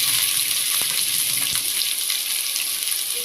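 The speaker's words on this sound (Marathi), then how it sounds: "फास्ट गॅसवर 1 मिनिट परतून घ्यायचंय." Sliced onion, capsicum and cabbage frying over high heat in hot oil in a pan, giving a steady close hiss of sizzle with a couple of brief clicks from the pan.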